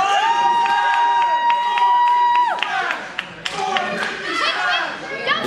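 A wrestling crowd at a match cheers and shouts together, with loud sustained voices rising and falling and scattered claps, while a strong, sustained tonal sound rings over the noise.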